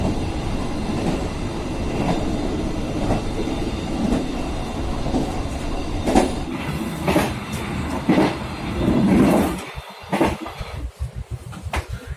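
A Tegal Express long-distance passenger train in Indonesia, between Cikampek and Cirebon, rolls along with a steady rumble and rhythmic clacking of wheels on track, close and continuous, with a brief heavier swell near the end.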